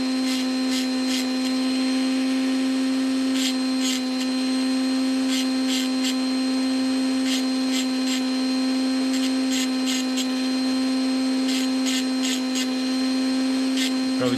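A Mazda MX-5 Miata shifter's tombstone ends are deburred with a power tool, a steady loud whining motor tone that runs throughout, with short bright grinding bursts recurring in clusters as the tool works around each piece.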